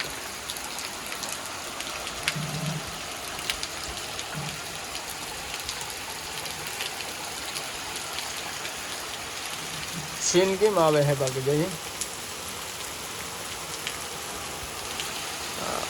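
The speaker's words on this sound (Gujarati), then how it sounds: "વિલાસપુરમાં જોરદાર વરસાદ થઈ ગયો છે" Heavy rain pours steadily throughout, a dense constant patter, while a voice speaks briefly partway through.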